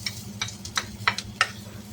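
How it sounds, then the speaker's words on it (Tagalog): Garlic and ginger sauté in a pan with a quiet, close sizzle, punctuated by quick light taps and scrapes of a spatula stirring. "Meron po akong ginigisa rito,"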